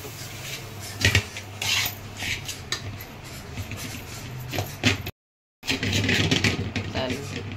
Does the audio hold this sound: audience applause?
no